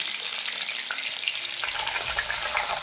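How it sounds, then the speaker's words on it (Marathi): Mustard greens tipped into a pan of frying garlic and chili, a steady close sizzle of hot oil swelling louder as the leaves go in, with faint stirring scrapes. "आता भाजी टाकून घेते"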